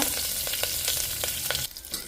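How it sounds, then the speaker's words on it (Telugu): Tempering spices (mustard seeds, cumin, urad and chana dal, dried red chillies, asafoetida) and curry leaves sizzling in hot oil, a close steady crackle with sharp pops and spits scattered throughout, no voices. "సో కరివేపాకు వేసాను పోపు కొంచెం వేగాలన్నమాట"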